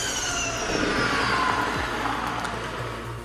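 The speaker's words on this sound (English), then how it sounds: "you have the pure and direct pulsations by the engine near to the ear" A 2021 Ferrari SF90 Spider with its hybrid powertrain revs nearby, a mid-pitched engine pulsing and climbing steadily under moderate volume for a few seconds, with no talking.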